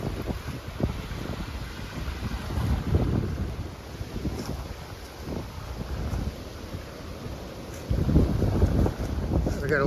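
Wind rushes steadily across Lake Waccamaw, with waves washing against the shore and gusts buffeting the microphone, a continuous rough roar that swells louder near the end.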